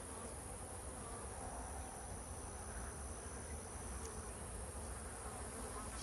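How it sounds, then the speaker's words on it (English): Honeybees buzz continuously around jar-fed beehives at an apiary, a dense, faint drone with no voices. "There goes the bee."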